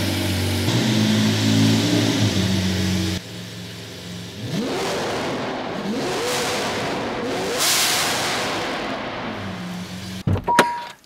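A car engine revs loudly while the car is being maneuvered out of a parking spot, a steady drone at first, then repeated rising and falling throttle blips with whooshing surges, close and prominent, ending with sharp clicks.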